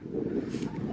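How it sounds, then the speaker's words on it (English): Wind gusts across an outdoor campsite, buffeting the microphone with a low rushing rumble for a brief moment. "Sorry about the wind, everybody,"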